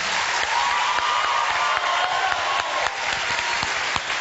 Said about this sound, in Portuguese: Palmas, palmas para o Chico Anísio.